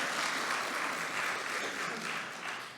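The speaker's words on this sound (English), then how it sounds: "Let's give her another round of applause because you love her" A crowd applauds at an informational community event, dense steady clapping at moderate distance that swells and then gradually tapers off toward the end.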